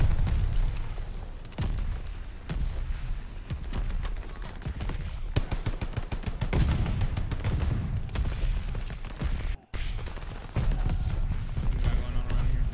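Glide bomber explosions and gunfire in the video game Call of Duty: Vanguard: dense, loud volleys of shots and heavy booming blasts roll on almost without pause, broken by one brief drop-out near the end, with game voices mixed in.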